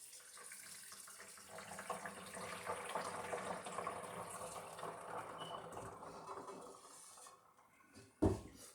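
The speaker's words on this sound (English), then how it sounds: "And go on and just pour it straight over" Hot water poured from a pot over pineapple wine must, a steady splashing, gurgling pour that runs for several seconds before tapering off. The pot ends with a sharp clunk as it is set down. Nobody speaks.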